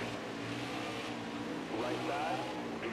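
NASCAR race car engines roaring steadily in NASCAR Heat 5 at the Charlotte Roval, a continuous loud drone with a rising rev as cars jostle, while a commentator talks over the racing.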